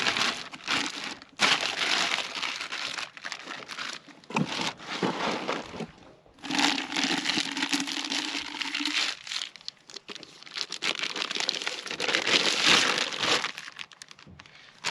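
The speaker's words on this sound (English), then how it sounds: "Go ahead and put this piston back in this bag." An engine piston from a MaxxForce DT being slipped into a plastic bag, with loud close crinkling and crumpling of the plastic in several bursts and brief pauses.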